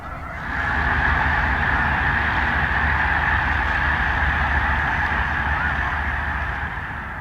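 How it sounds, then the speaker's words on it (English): A flock of snow geese on a river delta takes off together, a dense, continuous chorus of honking that swells in quickly and holds loud and unbroken for several seconds. "the snow geese take off too"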